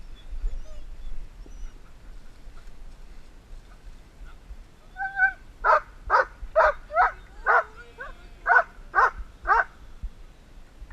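A big dog barks about ten times in a quick, fairly even series, moderately close and loud, after a few seconds of quiet background with faint sounds.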